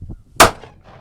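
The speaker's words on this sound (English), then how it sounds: "The replica is equipped with all the bells and whistles. In fact, it even has a cannon." A replica cannon fires once, giving a single sharp, loud boom that decays quickly after faint low rumbling beforehand.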